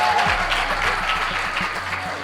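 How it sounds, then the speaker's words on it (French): Audience applause during a school quiz match, dense steady clapping from a crowd filling the whole stretch at a fairly loud, even level. "Bravo, on applaudit 10 points."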